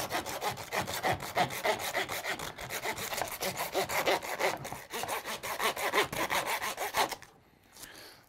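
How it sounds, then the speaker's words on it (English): A hand saw cuts through deer bone during home butchering, with rapid, steady back-and-forth strokes, close and loud for about seven seconds before stopping. A voice speaks one brief word. "So that way when he starts sawing, he's at the bone already."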